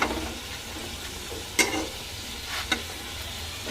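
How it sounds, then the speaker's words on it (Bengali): Pitha frying in a pan gives a steady sizzle with occasional scraping stirs and sharp clinks from a utensil, close and alone with no talking. "লাইট লাইট কালার করে ভাজবো"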